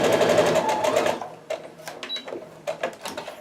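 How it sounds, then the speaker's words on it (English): A sewing machine runs in a short fast burst joining kaleidoscope quilt blocks, close and clear, then stops and gives way to light fabric handling and clicks. "So first I'm just going to sew this one together."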